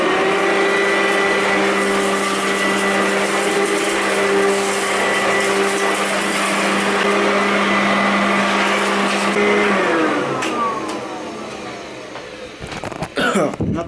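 A household vacuum cleaner drones steadily at close range in a room while it picks up dirt, then is switched off and its motor whines down to a stop.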